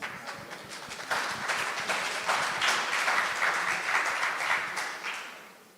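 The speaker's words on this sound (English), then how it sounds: "I think the applause shows it" Conference audience applauding steadily for several seconds, a sustained wash of many hands that swells after the first second and tapers toward the end, with a faint voice underneath at the start.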